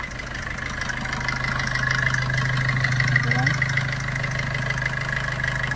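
A 2019 Maruti Suzuki Vitara Brezza VDI diesel engine idles with a steady, even low rumble, heard up close from the engine bay, and a voice talks over it.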